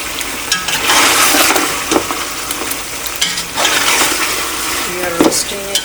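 Kabuli pulao rice is stirred in sizzling ghee. The loud frying hiss keeps going with scraping bursts from the stirring, with no speech over it.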